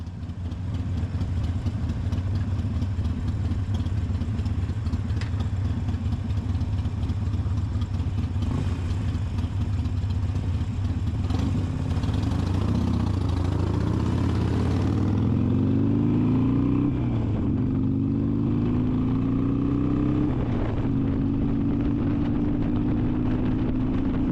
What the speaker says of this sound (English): I love listening to the way the bike sounds.